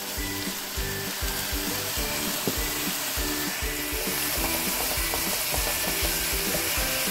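A pan with coriander, parsley and garlic powder sizzles steadily while being stirred, a continuous close frying hiss with light scraping, under a constant bed of background music.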